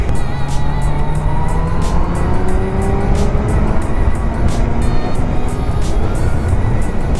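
A Kawasaki Z900 motorcycle engine is heard on the move, loud and close, with a steady droning roar whose pitch climbs through the gears.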